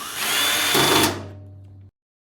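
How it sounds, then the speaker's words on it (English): A power drill whirs loudly and close while driving a screw into a panel of a small Adoorn package box, one continuous burst that rises in pitch, eases down and then cuts off sharply. "I'll start here with the top, work my way down with inserting the screws at each point along the way."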